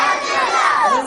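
A large crowd at a madrasa religious program roars back a unison chant in reply to Nara-e-Takbeer, a loud, sustained mass of voices held for the whole second.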